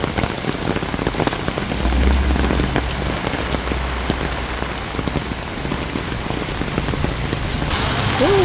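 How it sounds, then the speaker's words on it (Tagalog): Heavy rain pours steadily onto surfaces outdoors during a Philippine countryside digging trip, a dense continuous hiss with close patters and drips that stays loud from start to finish, no talking. "Oh, grabe po ang ulan"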